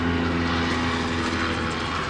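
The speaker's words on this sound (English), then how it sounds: "there's a noisy plane going over" A loud, noisy plane passes overhead near a garage where a van conversion is underway, its steady engine drone filling the whole stretch with no talking.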